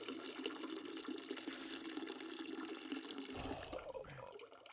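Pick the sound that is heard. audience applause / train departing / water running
water running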